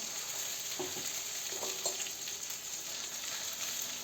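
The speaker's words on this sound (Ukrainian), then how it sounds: "ще раз обернула і смажимо" Steady crackling sizzle of meat sandwiches frying in a pan, with a few soft scraping clinks of a utensil partway through.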